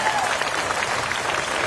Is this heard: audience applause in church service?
yes